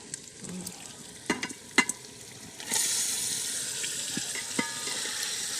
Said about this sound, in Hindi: अब हम इसमें ये जो मैरिनेशन की हुई थी ये हम गोश्त डालेंगे।